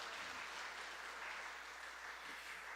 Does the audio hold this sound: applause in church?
yes